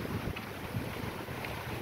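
Steady wind buffets the microphone in a constant low rumble at an island resort in Samar, Philippines, with a faint wash like water or surf beneath it.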